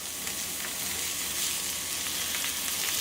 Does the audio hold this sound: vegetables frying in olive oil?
yes